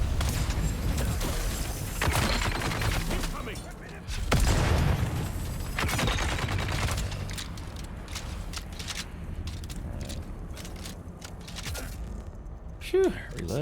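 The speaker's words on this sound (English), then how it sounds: "that sounds like somebody's throwing a grenade" Grenade explosions and bursts of gunfire in the Dune: Awakening video game, with repeated booms and rattling shots layered into a busy, noisy battle mix, all heard under a player's talk.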